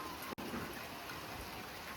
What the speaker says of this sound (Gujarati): વરસાદ જબર આવી ગયો